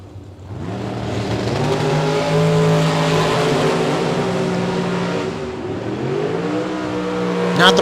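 Drag racing cars, including an Answer Dragster with fenders on the back, roar down the strip in a loud, sustained engine drone with rising harmonic tones as they accelerate, close and continuous throughout.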